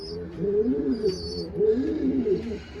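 A male pigeon coos repeatedly in soft, rolling, low-pitched phrases nearby in a pigeon loft, with faint chirps from other birds in the background.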